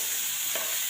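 Beetroot and sugar chutney being stirred in a hot frying pan, a short scrape of the spoon over a steady soft sizzle.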